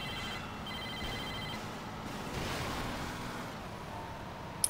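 A cell phone rings in Saints Row 2, a repeated electronic trill sounding twice over engine and road rumble, with a sharp click at the end and no talk.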